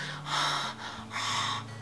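A voice imitates a maniac's heavy breathing with two long, loud, rasping breaths, close and alone, with no talk over them.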